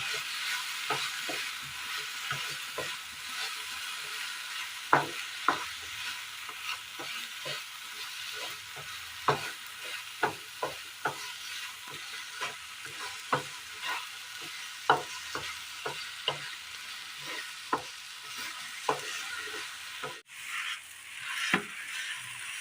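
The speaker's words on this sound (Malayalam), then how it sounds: "നന്നായി മിക്സ് ചെയ്യാം." A thick sweet mixture with crushed cardamom is stirred in a pan over a soft, constant sizzle, with repeated scraping taps of the spoon against the pan at an uneven rhythm.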